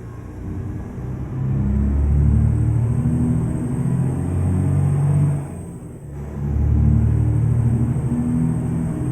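International 9800 truck engine in American Truck Simulator, a loud, steady low diesel drone that swells as it revs, dips briefly, then climbs again, with no talk over it.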